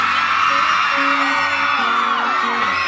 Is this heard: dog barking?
no